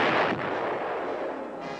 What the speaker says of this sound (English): The self-propelled 155mm howitzer